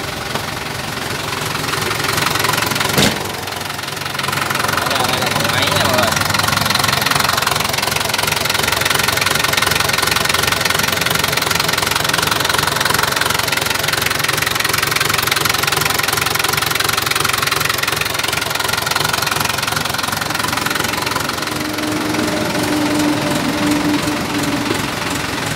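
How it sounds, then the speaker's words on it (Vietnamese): Used Isuzu truck engine idling outdoors, a loud steady diesel knock and rumble that runs continuously, with a brief sharp thump near the start and no speech over it. "em ra phía ngoài cho bà con cùng nghe âm thanh máy móc như thế nào nha"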